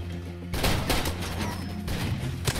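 Gunfire in the video game Far Cry 2: dense bursts of shots crackle over a steady rumble, starting abruptly and continuing in rapid clusters throughout.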